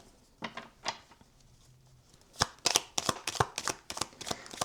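Tarot card decks are shuffled by hand, with a few soft riffles at first, then a rapid series of crisp, close card snaps and flutters.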